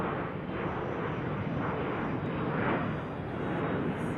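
An Embraer E175 jet at Salt Lake City airport roars steadily in a broad, continuous rushing engine noise, moderately distant, with no voices.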